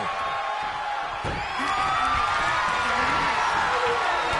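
Crowd noise in the WWE 2K24 wrestling video game, a steady roar of cheering and whoops at an arena event, with a commentator-like voice talking over it.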